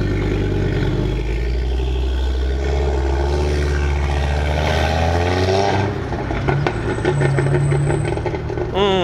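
An Audi RS3 burbles and rumbles as it pulls away, a loud low engine note that rises and falls while someone talks over it, then fades into crowd noise and brief chatter.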